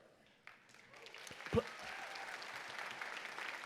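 Audience applause at a college convocation ceremony, a broad steady clapping that swells in after a moment and carries on evenly, with a voice briefly audible near the start.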